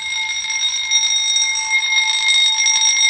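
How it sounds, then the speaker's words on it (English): A home fire alarm bell sounds continuously and loudly, a steady high-pitched electronic ringing with no voices over it. "I see my son's fire bell going off."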